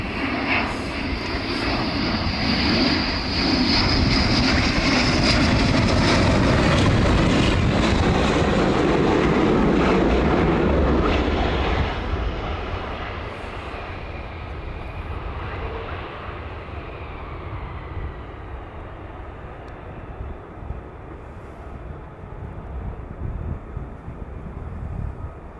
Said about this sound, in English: There's your F-15s.